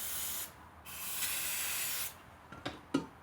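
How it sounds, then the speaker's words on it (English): Brake cleaner hisses from an aerosol can onto the engine side of a 2002–2007 Yamaha Grizzly 660 ATV in two long close bursts, then a few short spurts. "I'll just take my whatever's left of my brake clean here. Get it all around there."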